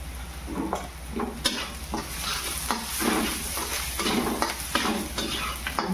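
Turmeric is stirred into sizzling bread pakoda vegetable filling in a pan, with a steady close frying hiss and rhythmic scraping strokes of the spoon.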